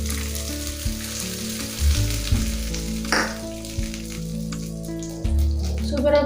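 Dried red chilli and curry leaves crackle and sizzle in hot oil as a tempering poured into murungai keerai chutney, a steady close frying hiss with a few sharper bursts and light stirring.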